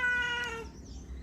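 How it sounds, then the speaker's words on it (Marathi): A cat meows once nearby, a short rising-falling cry drawn out and trailing off, fairly faint against a quiet kitchen background. "आली मांजर."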